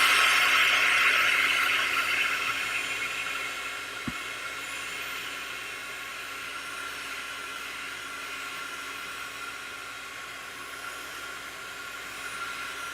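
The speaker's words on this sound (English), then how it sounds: "I'm using my heat gun to just heat this because it's pigment" A heat gun blows hot air over pigment ink on a handmade card, a steady broad hiss that is loudest at the start and then eases to a constant lower roar. The hiss runs alone with no talking.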